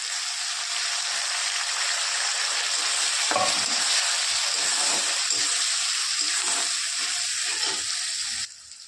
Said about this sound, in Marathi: कांदा डाल झालाय तर टाकत आहोत आपण टमाटर